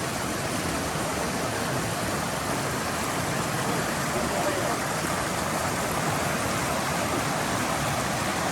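Water flows in a creek bed in Oklahoma's Ouachita National Forest, a steady, even rushing wash without pause, fairly soft and alone.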